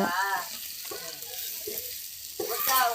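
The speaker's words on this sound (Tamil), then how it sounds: "இப்போ அதையும் நல்லா 1 நிமிஷத்துக்கு இந்த மசாலாவோடு நல்லா வதக்கிக்கலாம்." Large eggplant is sautéed with masala in a clay pot for a kaarakkuzhambu: a steady close sizzle runs throughout, with a voice speaking over it at the start and end.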